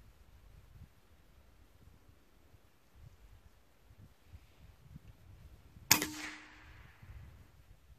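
A single sharp report from a tuned Benjamin Bulldog PCP air rifle fired outdoors on a 3200 psi fill, shooting JSB pellets at 100 yards, stands out loud and close against quiet wind-rustled background noise.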